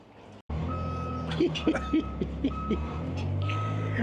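A builders' truck idles at a building site while its reversing alarm sounds a regular string of sharp electronic beeps, fairly close, over a steady low engine rumble.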